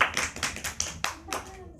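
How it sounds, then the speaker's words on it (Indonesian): Classmates give a student a short round of applause in a small classroom, about seven or eight quick, fairly soft claps in a loose rhythm, with a voice speaking briefly during them. "kita beri aplaus untuk Mbak Dia"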